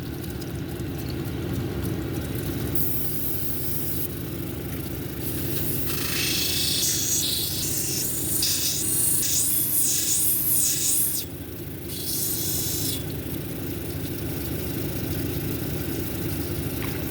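A lapidary grinding wheel at 220 grit shapes a Summerville lace agate cabochon, giving a steady whirring motor hum with a scraping, hissing grind that swells from about the sixth to the twelfth second, with no talk.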